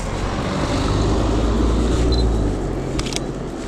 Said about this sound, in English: Same BMW that drove past me earlier on.